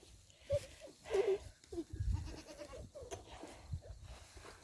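A male goat (buck) bleats a few times, close by, with short rough calls among quiet rustling and soft background murmur.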